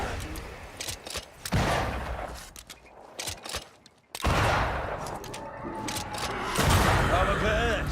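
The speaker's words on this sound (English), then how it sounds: "That corpse is gonna shoot." Gunfire from an enemy corpse in Banishers: Ghosts of New Eden: bursts of shots and sharp cracks come in clusters with short lulls, under and between speech.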